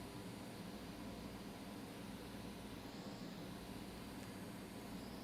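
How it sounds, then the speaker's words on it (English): The cooling fan of a 2020 MacBook Air with a CPU cooling fault spins at high speed, giving a steady, faint, even whirring hiss that never changes for the whole few seconds. "Laptop is still on, and fan is spinning very high."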